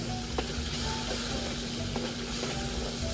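Food sizzles steadily in a hot frying pan while being stirred, a dense, constant frying hiss with faint scraping and a few clicks of the utensil against the pan.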